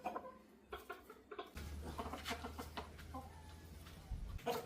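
Farmyard chickens with a pair of new roosters make scattered soft clucks at low level, first in near quiet and then over a steady low hum.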